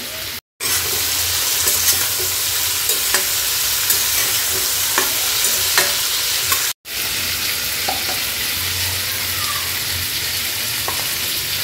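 Vegetables frying in a pan with mustard-poppy paste, a steady close sizzle broken by occasional stirring scrapes and clicks, with two brief dropouts and no talk.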